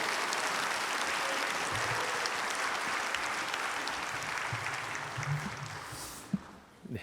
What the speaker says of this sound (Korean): 우리 큰 박수로 목사님 모시도록 하겠습니다